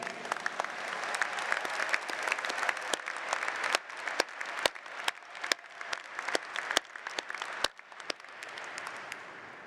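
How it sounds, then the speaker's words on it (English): Sustained applause from a large audience at a 2019 Penn Engineering undergraduate commencement ceremony, dense steady clapping with a few sharp louder claps standing out, continuing throughout. "You deserve a big round of applause."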